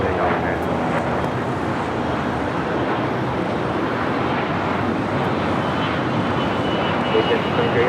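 An airliner roars down the runway at LAX on takeoff, a loud, steady broadband engine rush that holds for several seconds with no break.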